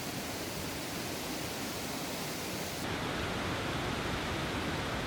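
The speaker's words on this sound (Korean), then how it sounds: "쌍둥이 폭포라고 별명이 붙은 폭포를 찾았다" Rotefossen, a 165 m roadside twin waterfall in Norway, pours down in a constant, dense roar heard from close range, loud and unbroken throughout.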